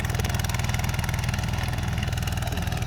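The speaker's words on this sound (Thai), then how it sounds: "ต้องเร่งเครื่องช่วยเยอะหน่อยนะครับ เพราะว่าดินหนุบ" A ZT155PLUS walk-behind tractor engine revs hard while its belt-driven rotary tiller churns dry, lumpy soil, a loud, close, rapidly pulsing chug that holds steady throughout with no talk.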